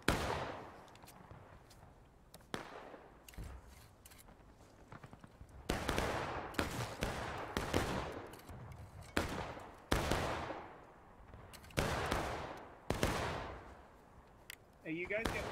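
Rifle fire in a Civil War skirmish video game, scattered sharp cracks near and far popping irregularly in bursts, with occasional volleys, over low background ambience.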